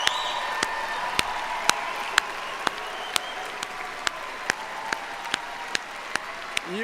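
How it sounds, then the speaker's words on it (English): Steady, broad applause from a commencement audience honoring graduates, with sharp, evenly spaced claps or thumps punctuating it roughly every half second. "Let's give these wonderful graduates another warm round of applause."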